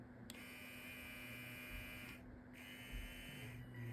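A small electric motor driven by an H-bridge controller whirs with a steady high-pitched electric buzz and hum, running continuously with a couple of brief pitch shifts.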